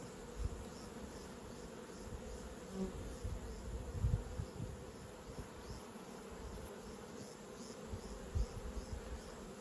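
Honeybees droning around nucleus beehives during a strength check, a continuous low buzzing swarm close by with occasional louder passes of individual bees.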